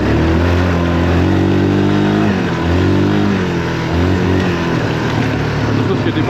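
A Yamaha 350 motorcycle ridden through a forest, its engine droning loud and close with rising and falling revs throughout.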